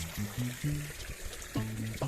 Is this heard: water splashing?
yes